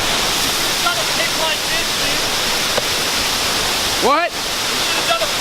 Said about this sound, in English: We are at the waterfall, and boom.